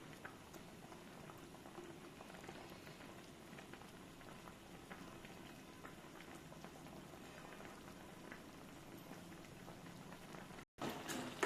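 Vermicelli simmering in coconut milk payasam in a pot, a steady close bubbling and popping boil that runs throughout, with no talking.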